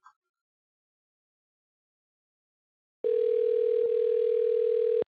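A phone call rings out with a steady, loud outgoing ring tone that begins after a long silence and keeps going with one brief break.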